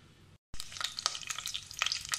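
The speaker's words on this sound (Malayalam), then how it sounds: "വെളിച്ചെണ്ണ ചൂടായപ്പോൾ കറിവേപ്പിലിട്ടു." Curry leaves dropped into hot coconut oil, a sudden loud burst of sizzling after a brief silence, then crackling pops and spitting that continue close up.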